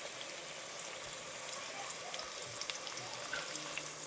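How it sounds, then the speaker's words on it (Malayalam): Chopped onions fry in oil and ghee for biryani masala, a steady close crackling sizzle with scattered pops and no talking. "ഓയിലും കുറച്ച് നെയ്യും ഒഴിച്ചിട്ട് അതിക്ക് കുറച്ച് സവാള ചെറുതായിട്ട് അരിഞ്ഞത് ഇടുകയാണ്"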